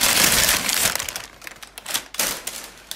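A cut-open cardboard shipping box from Petromax, holding cast iron cookware, is pulled open with loud crinkling, scraping and crackling bursts of cardboard and packing material, close up and irregular, with no voices.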